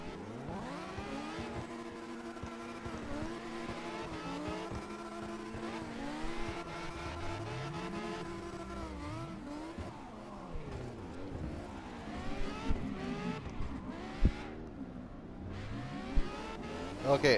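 Several racing cars in the CarX Drift Racing video game rev and drone together, overlapping engine tones sweeping up and down as they accelerate and drift, with occasional sharper bursts toward the end.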